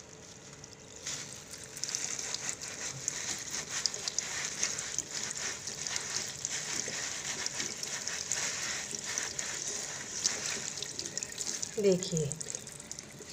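Running water pours and splashes steadily as it rinses a surface cleaned with Modicare Beyond Blue, a constant close hiss of water with a brief spoken word near the start and a small clatter near the end.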